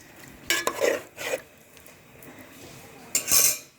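Country chicken curry being stirred in a pot with extra water added, giving a few short scraping, clinking bursts of a spoon against metal separated by quiet pauses, close and alone.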